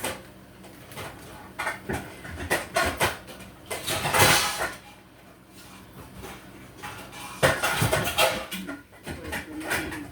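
Metal pots and lids clank and clatter in irregular bursts inside a top kitchen cabinet, with rummaging knocks and scrapes close by.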